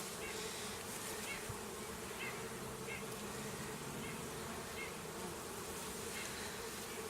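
A dense, steady buzz of honeybees swarms around a newly opened beehive at close range, filling the whole stretch without a break while no one speaks.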